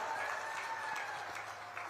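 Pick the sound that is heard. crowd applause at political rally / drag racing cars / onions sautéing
crowd applause at political rally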